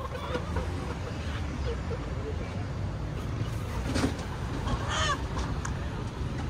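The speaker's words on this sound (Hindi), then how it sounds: "आयशा देखा देखा कैसे अंकल ने मुर्गी को जिबा किया?" Chickens at a poultry shop in Lahore cluck and call now and then beneath a steady din of a busy market, with people talking throughout.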